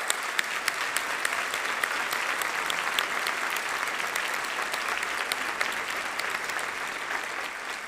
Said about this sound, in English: My hands are kind of worn out from clapping.